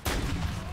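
Sharp, loud JAK Gunslinger shots from Modern Warfare 3 Zombies hit close and dense in a short burst, filling the moment with heavy gunfire.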